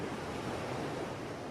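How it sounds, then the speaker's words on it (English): Ocean waves crash against a beach shore in a steady, continuous wash of surf, close and moderately loud, with no voices. "enjoy the beauty and majesty of the waves crashing against the shore"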